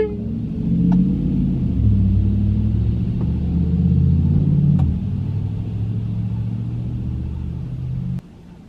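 A car drives along the road with a steady, low engine and road rumble, heard from inside and close. The drone shifts slightly in pitch before dropping in level near the end.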